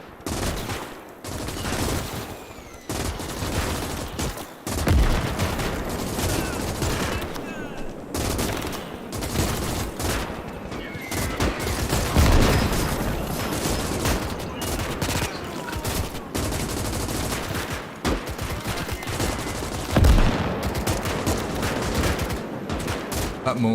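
Gunfire and mortar rounds in the World War II strategy game Call to Arms - Gates of Hell, with rolling bursts of rifle and machine-gun fire and periodic heavy thumps from explosions, loud and continuous for over twenty seconds.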